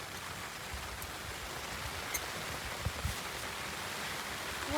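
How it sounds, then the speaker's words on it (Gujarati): Dense, continuous rain hisses evenly, with a few faint knocks and drips standing out briefly. "જોરદાર વરસાદ પડી રહ્યો છે"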